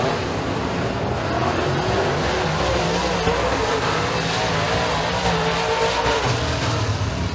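Super late model stock cars in a heat race at Eriez Speedway make a dense, loud, continuous engine roar, a wall of several motors blending together without pause and with no voices on top.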